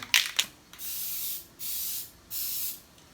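A spray paint can puts a third coat on a custom swing-out tire carrier: two quick bursts, then two longer, even hisses of about half a second each with short pauses between, close and moderately loud, and no talking.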